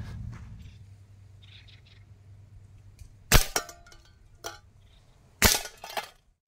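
A Hatsan AirTact .177 air rifle fires pellets at a can target: two sharp, loud cracks a couple of seconds apart, each followed by a faint metallic ping, over quiet background hum.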